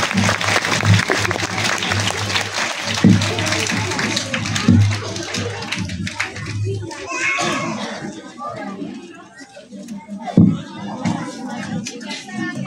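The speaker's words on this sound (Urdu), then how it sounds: "آپ سب کی بھرپور تالیوں میں جناب زاہد عزیز حقانی صاحب." Parents and children at a school branch opening and results-day ceremony clap in a loose burst that fades, mixed with children's chatter and shuffling, with a few thumps and talk continuing afterward.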